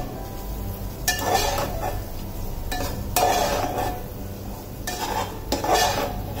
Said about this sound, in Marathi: आता हे व्यवस्थित आपण परतून घेऊया